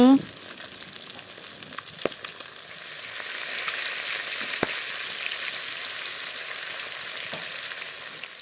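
Katla fish pieces sizzle steadily in hot oil, a soft continuous crackle and hiss with a few faint clinks, fairly quiet and without voices.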